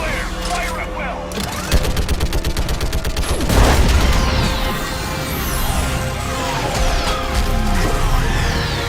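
Heavy battle gunfire and booming impacts from Mass Effect 3 Legendary Edition during the battle for Rannoch, rapid shot bursts, crashes and swelling explosions layered with music and spoken game dialogue, loud and dense throughout.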